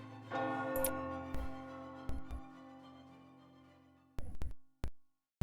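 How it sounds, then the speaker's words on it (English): A bell tolls in a video game, ringing out with a long decaying hum in the first seconds, followed by several sharp, loud hits toward the end with near silence between them. "I hear another bell toll."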